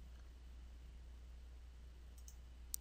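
A computer mouse clicks faintly in a very quiet room, with a couple of soft clicks shortly before one sharper click at the very end.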